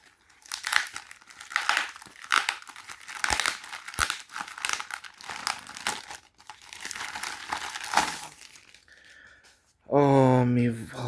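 Parcel packaging and tape crinkle and tear in repeated rustling bursts close by, followed by a person starting to speak at the end.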